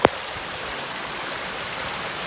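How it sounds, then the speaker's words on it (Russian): Floodwater from heavy rain rushes through a city park as a steady, loud broadband roar of flowing water, unbroken for the whole stretch, with a brief sharp knock right at the start. "Вот такой вот поток устремляется в парке."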